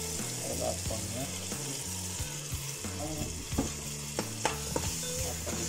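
Ground masala frying in a pan with cooked tomatoes for tomato pulao: a steady sizzle runs throughout, broken by repeated scraping and clinking of a stirring spoon, with a few sharper knocks near the end.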